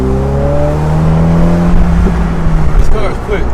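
A Ferrari revs hard and accelerates, its engine note rising in pitch close by, then giving way to rougher roar and wind as speed builds, with people talking over it.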